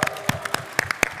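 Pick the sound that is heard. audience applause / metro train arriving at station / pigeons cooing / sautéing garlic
audience applause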